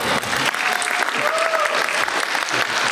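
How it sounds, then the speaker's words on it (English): Loud, dense applause from a crowd at an anime convention voice actor panel, a continuous roar of clapping close by, with a few voices and cheers faintly mixed in. "A round of applause for our main moderator."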